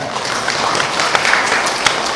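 Worshippers at a Qur'an and hadith study gathering break into loud, sustained applause, a thick crowd of clapping with a few sharper claps standing out, and no speech over it.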